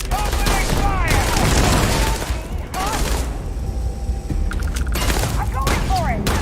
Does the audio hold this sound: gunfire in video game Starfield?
yes